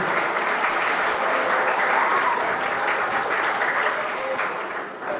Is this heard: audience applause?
yes